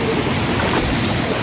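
Stream water rushing around trekkers wading through a river crossing on the Netravati trek, a dense, steady, close broadband roar of flowing water with no voices, filling the whole short moment.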